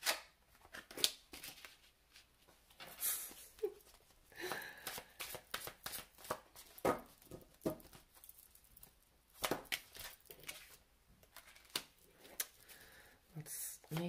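Tarot cards are shuffled by hand in quick, uneven bursts of crisp riffling and slapping close by, with brief pauses between and a soft voice now and then.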